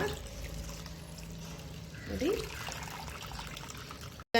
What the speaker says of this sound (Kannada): ಈಗ ಇದಕ್ಕೆ ನಾನು ಸ್ವಲ್ಪ ತಣ್ಣೀರನ್ನ ತಣ್ಣೀರಿಂದ ವಾಶ್ ಮಾಡ್ಕೊಳ್ಳೋಣ